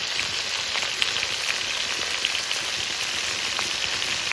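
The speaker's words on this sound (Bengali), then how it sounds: "চিংড়ি মাছ বেশি কড়া ভাজা দেবো না, হালকা ভাজবো।" Giant river prawns fry lightly in mustard oil, giving a constant close sizzle with fine crackling throughout and no voices.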